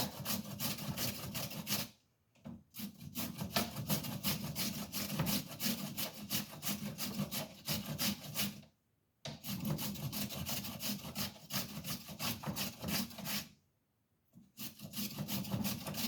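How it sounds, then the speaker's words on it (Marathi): A potato is rubbed on a hand grater for a rajgira batata fasting dish, making a fast, continuous rasping scrape in three long runs separated by brief pauses, close and fairly quiet. "किसणीवर त्याला छानपैकी असं किसून घ्या."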